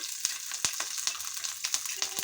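A large amount of chopped garlic fries in oil for a jackfruit seed mash. The sizzle is close and steady, broken by sharp crackles and stirring clicks roughly every half second.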